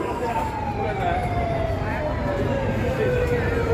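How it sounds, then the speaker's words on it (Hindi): An ambulance siren wails steadily and loudly, its tone slowly sliding downward, over a dense rumble of traffic and crowd noise at a political rally in Aurangabad, India. "ये एम्बुलेंस आ रही है।"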